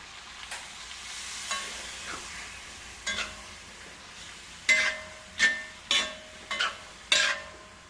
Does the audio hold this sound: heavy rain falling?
no